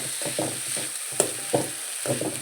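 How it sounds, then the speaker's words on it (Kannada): Tempered poha (vaggarane avalakki) frying in a pan, soft sizzling broken by a run of scraping stirs close by, with no voices. "ಇದೊಂದು ಸ್ವಲ್ಪ ಫ್ರೈ ಆಗಲಿ."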